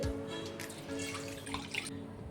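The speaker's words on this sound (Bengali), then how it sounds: "আমি কড়াটা বসিয়ে নিয়েছি, দিয়ে দেবো জল" Water is poured into a wok on the stove for cooking basmati rice for a paneer biryani. It comes as a steady, close splashing gush that runs unbroken for a couple of seconds.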